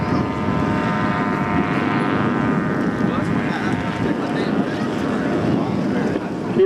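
An aerobatic ultralight aircraft flies at an air show, its engine droning with a steady buzzing hum that shifts slightly in pitch as it manoeuvres, heard through wind noise and crowd ambience.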